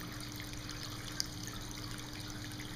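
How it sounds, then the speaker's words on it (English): A hand-sculpted tabletop fountain trickles softly as water cascades cup-to-cup down a steep miniature waterfall, a faint, steady babble with one small splash-like tick midway. "cup-to-cup waterfall."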